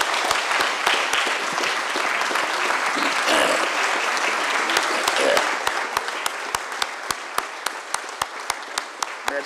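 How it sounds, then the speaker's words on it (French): An audience at a national excellence awards ceremony stands and applauds the laureates, a loud, dense round of applause that settles into sharp, evenly spaced rhythmic claps toward the end, with faint voices beneath. "je voudrais qu'on salue nos lauréats en vous levant et en les applaudissant."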